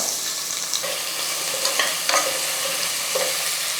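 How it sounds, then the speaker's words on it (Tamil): Four medium onions, cut lengthwise, frying in a pan for potato masala, with a steady sizzle and intermittent light stirring clicks up close. "வெங்காயம் வந்து நல்லா வதங்கட்டும்"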